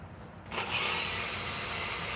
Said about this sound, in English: I'm hitting it at the angle to where I'm just sanding that reeded edge.